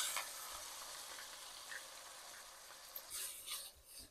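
Finely chopped large onion frying in a pan for dhaba-style palak daal, a steady broadband sizzle with a few brief stirring clicks near the end.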